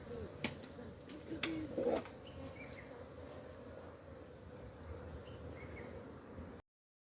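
Honey bees buzz in an opened hive during a swarm-prevention frame move, a steady low hum filling the whole stretch, with a few brief louder buzzes and faint bird calls early on.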